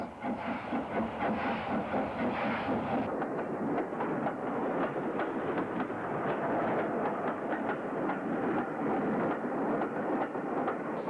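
Steam locomotives with two banking engines climb the Bromsgrove incline, a loud continuous roar of exhaust and hissing steam with a rhythmic chuffing and rolling rail clatter.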